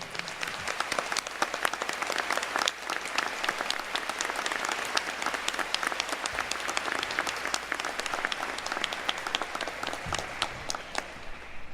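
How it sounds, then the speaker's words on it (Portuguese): Sustained applause fills a medical school graduation ceremony hall, many hands clapping continuously at an even, moderate level for over ten seconds with no break. "Em agradecimento a eles, vamos aplaudi-los por tudo que fizeram por nós."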